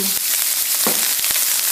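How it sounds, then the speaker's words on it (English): Rice sizzles and crackles loudly in hot oil, a dense continuous frying hiss with sharp pops and the scrape of stirring. "When the rice hits the pan from the oil, you want to flatten it out."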